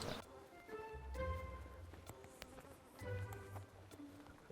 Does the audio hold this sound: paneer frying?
no